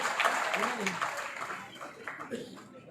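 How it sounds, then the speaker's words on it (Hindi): At an Independence Day district ceremony, a crowd's applause starts fairly strong and quickly thins out, with voices and chatter emerging as the clapping fades. "एक बार जोरदार इनका तालियों के साथ अभिनंदन।"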